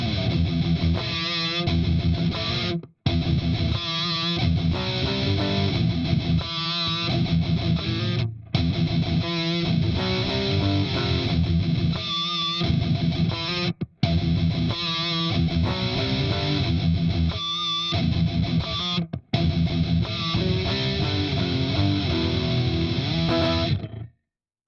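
Electric guitar through a Seymour Duncan neck humbucker with both coils active, played with distortion and effects, in chorded riffs that run almost continuously, broken by a few brief full stops, loud and alone without talk.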